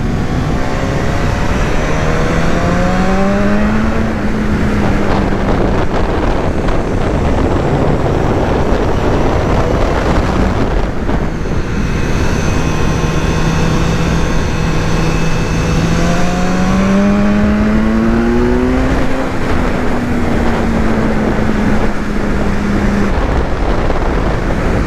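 A BMW S1000R motorcycle engine revs hard while riding, its pitch repeatedly climbing through the gears and dropping back, loud and close with steady wind rush.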